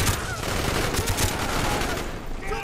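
Rapid bursts of gunfire in the video game Call of Duty: Black Ops crackle continuously, a sustained volley of shots over a noisy battle backdrop, with faint voices mixed in.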